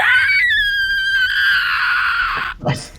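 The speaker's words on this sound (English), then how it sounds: "You see screaming coming from the room" A long, loud, shrill scream sustained for over two seconds, falling slightly in pitch before breaking off into a short gasp, played as a sound effect during a tabletop role-playing game session.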